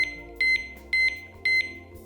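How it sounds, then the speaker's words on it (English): An ABUS motorcycle disc lock sounding short, sharp electronic beeps as it is armed, each a double chirp repeating at a steady pace, close and clear over a quiet room. "When arming the lock, the key is turned to the on position and beeps 6 times to notify the user that it is alarmed."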